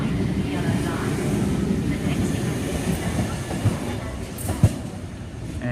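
Sydney commuter train rumbling out of a platform at Redfern station, a low rolling rumble with irregular clunks and a sharp metallic bang near the end, heard from the platform at moderate distance.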